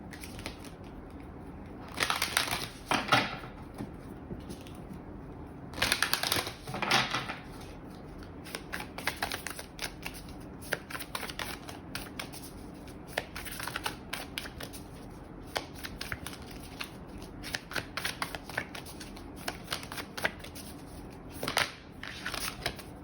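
Moonology oracle cards are shuffled and handled at length, with irregular papery riffles, louder clusters of flicking and crackling bursts, and quieter rustling between them, close up and without talk.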